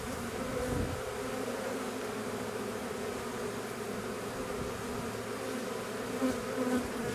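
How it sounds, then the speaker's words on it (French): A swarm of honeybees gathers around a small hive box during the first spring swarming, making a dense, continuous buzz that stays steady and close throughout, with no voices. "On les voit là, c'est beau à voir. Toutes ces abeilles qui battent leur appel."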